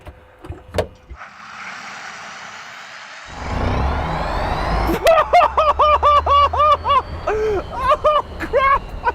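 An electric Land Rover fitted with a Tesla Model S motor accelerates at full throttle, its rising electric whine climbing steadily in pitch for several seconds before loud excited shouting and laughter break in over the top.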